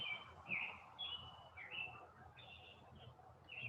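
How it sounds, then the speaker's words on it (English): Faint, high bird chirps repeat intermittently outdoors over a soft background hush, short whistled notes coming every half second or so. "The birds chirping are in our space."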